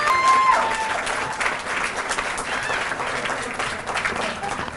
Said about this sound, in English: ive Saara and the future leader of the Ummah a big round of applause?